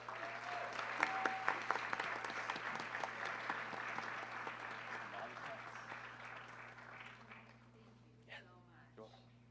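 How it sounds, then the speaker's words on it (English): Applause at a Kathak dance debut recital as a guest speaker is welcomed, dense clapping that gradually fades out, followed by a voice beginning to speak. "let's give her a warm round of applause."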